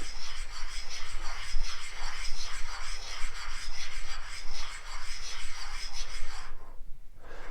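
Harley Davidson engine main bearing being lapped with lapping compound, a steady close gritty rubbing rasp in repeated strokes that stops abruptly near the end.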